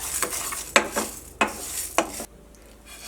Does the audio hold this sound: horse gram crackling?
yes